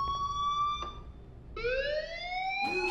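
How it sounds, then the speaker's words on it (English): A fire alarm sounding at Blackwell Academy in the Life Is Strange video game, a rising siren-like wail repeated in separate bursts, clear and moderately loud. "Do you hear that fire alarm? That means you should be outside."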